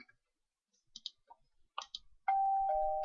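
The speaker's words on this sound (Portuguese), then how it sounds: "Uma campainha aí pra vocês" A doorbell chime from a Minecraft mod plays as a sustained two-tone ding-dong near the end, after a few scattered clicks and faint game sounds, with no talking.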